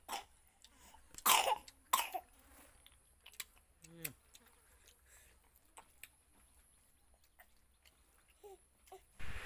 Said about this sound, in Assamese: অকণমান কাহ হৈ আছে